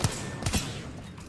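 Gunfire in the video game Apex Legends: a few quick sharp shots in a short burst, moderately loud over game background noise.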